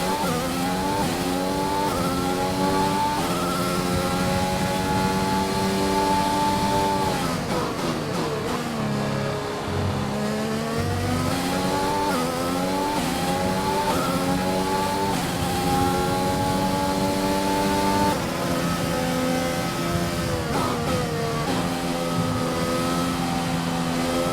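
Formula 1 race car engine in the video game F1 2021, a steady high-pitched whine that rises and falls through gear changes over the whole stretch, loud and continuous with no voices.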